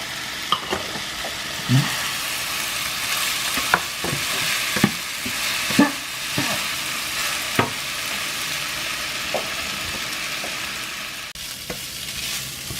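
Shrimp fried rice stir-fried with sweet black soy sauce in a hot pan, giving a continuous sizzle broken by repeated scraping strokes of a spatula, close and fairly loud, no voices.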